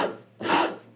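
A coarse hand tool rasps the 45-degree corner off a piece of wood in two short, close strokes, each a dry scraping burst, with no talking.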